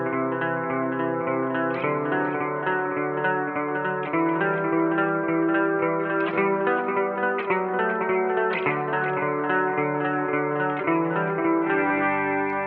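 Guitar through a Line 6 Helix transistor tape echo at default settings, with clean chords and notes ringing into repeating echo tails and a lush washy sustain, played steadily without talking.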